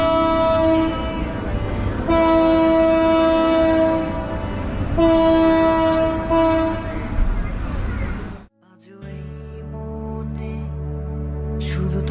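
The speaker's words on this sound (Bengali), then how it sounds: "আমাদের ট্রেন ছেড়ে দিয়েছে" A departing train sounds its horn in long sustained blasts, repeated twice, then gives way to lower tonal sounds and music after a brief drop; the horn is loud and close.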